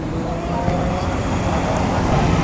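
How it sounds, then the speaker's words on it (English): A Ghia car fitted with a Chrysler engine drives past at the Pebble Beach Concours, producing a steady engine rumble amid crowd and road noise while someone talks over it. "Now here comes this Ghia with a Chrysler engine in it."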